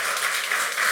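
A church congregation applauding during a communion-service sermon, a steady wash of clapping hands sustained for about a second without any voices.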